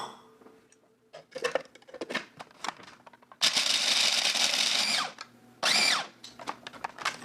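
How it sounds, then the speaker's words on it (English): Almonds being ground in a food grinder in a kitchen, several short bursts of whirring grinding, then two longer loud grinding runs, with clinks and handling noises between. "Next, I'm going to grind down 4 ounces of almonds."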